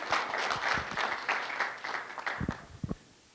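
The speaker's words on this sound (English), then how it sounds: "So everybody, a round of applause for Dom Scrivano." A school audience applauding a student of the month, a moderate burst of clapping that thins out toward the end into a few scattered claps.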